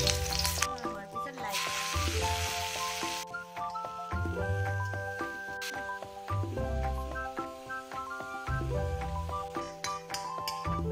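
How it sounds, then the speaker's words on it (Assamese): Onions sizzle in hot mustard oil with a soft, steady crackle, partly buried under music that plays throughout. "ৰঙচুৱা কৰি ভাজি"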